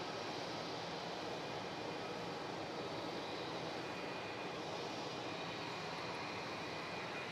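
A Jetstar A320 airliner rolls for takeoff on runway 27 at Melbourne Airport. Its engines give a steady, broad roar, faint and distant, that holds even for the whole stretch with no voices.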